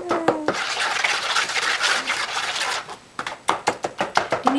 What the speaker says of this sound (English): So I'm gonna stir it together.